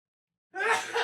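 A single sudden sneeze bursts in after silence, a short loud broadband blast with a breathy tail, close to the microphone in an indoor podcast setting.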